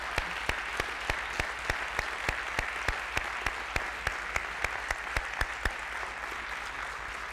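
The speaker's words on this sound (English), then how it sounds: "So also let's give our expert an applause." Audience at a space studies program opening ceremony clapping: sparse, evenly spaced claps over a faint steady hiss, distant and quiet, tapering off near the end.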